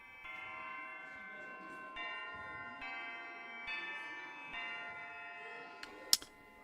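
A school bell in a video game rings in a steady series of repeated tones, moderately loud, ending with a brief sharp click.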